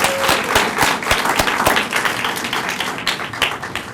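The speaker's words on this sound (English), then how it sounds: "one more round of applause as we do this" A lecture audience claps steadily, a dense patter of many hands at moderate volume that continues without pause.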